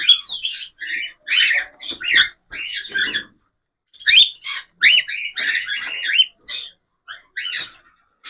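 Cockatiels trade sharp, chirping calls close by, in bursts broken by brief silences, loud and clear with no talk over them.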